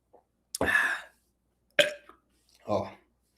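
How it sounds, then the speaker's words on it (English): Belch-like vocal bursts from a person drinking a whey protein shake during an eating session, three separate short bursts spaced over a few seconds, close and fairly loud with silence between. "Can you burp now?"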